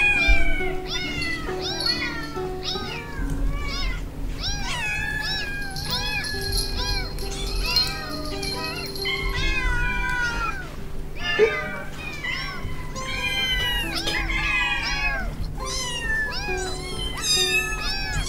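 Several kittens meow repeatedly in a rapid, overlapping chorus, fairly loud and continuous over a music bed on an Italian radio show.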